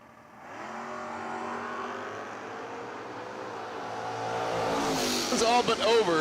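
Two drag race cars, a 1969 Chevelle and a 1969 Camaro at a footbrake drag racing event, hold a steady engine drone that swells into a loud roaring launch, while an announcer talks throughout.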